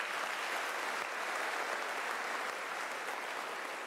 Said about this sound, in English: Can I request that we give a round of applause?